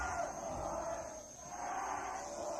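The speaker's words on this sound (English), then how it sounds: "Crowd here getting into it" Wrestling crowd at a steel cage match, a dense, faint roar of many voices shouting and chanting that dips briefly and then swells again, heard from within the arena.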